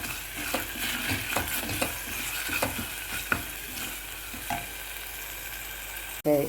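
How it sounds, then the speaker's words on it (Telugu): Ginger garlic paste fries in a pan with a soft, steady sizzle broken by periodic scraping stirs, ending in a sharp clunk. "దీనిలోనే అల్లం వెల్లుల్లి పేస్ట్ వేయించేసేయండి"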